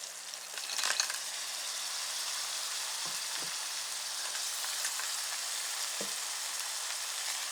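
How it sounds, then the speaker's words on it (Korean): Clams dropped into a hot pot for Korean clam kalguksu sizzle loudly and steadily, with a few brief clinks and shell knocks as they land and shift in the pan. "바지락을 여기에다가 넣어줍니다"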